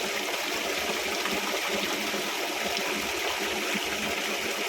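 Rainwater pouring off a road in Saudi Arabia into a street drain, a steady hissing rush of flowing water that stays even and continuous throughout, with no voices.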